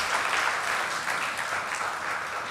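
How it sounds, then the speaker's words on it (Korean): A church congregation applauds during a Sunday worship service, steady dense clapping from many people heard at moderate volume throughout. "다시 한번 간증과 우리 특송을 해준 형제 자매들에게 큰 박수 부탁드리겠습니다."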